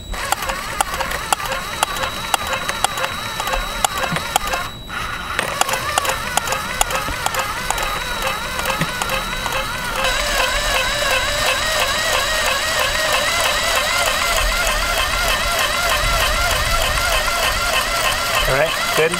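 A sewing machine stitching runs steadily close up, its fast rhythmic mechanical whir and clatter continuing throughout and growing slightly louder and denser partway through.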